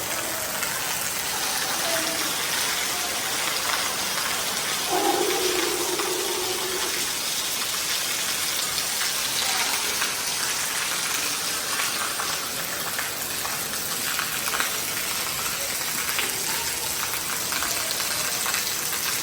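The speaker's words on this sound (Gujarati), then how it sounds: "ફૂલ વરસાદ ચાલુ થઈ ગયો છે" Steady heavy rain pours over a village throughout, a dense continuous hiss with a brief low hum from a passing engine partway through.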